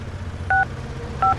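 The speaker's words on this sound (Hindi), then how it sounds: "अथर्व एक के बाद एक कॉल मिलाने लगा, पर श्रेया ने फोन नहीं उठाया।" Two short telephone keypad dialing tones, each a brief clear beep, spaced apart over a low background hum as a call is dialed.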